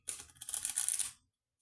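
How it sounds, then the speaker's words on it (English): A deck of tea leaf cards is shuffled after being split into halves, giving a bright, rapid riffling flutter for about a second that stops abruptly into silence. "what I have to do is just divide the deck and then shuffle it that way"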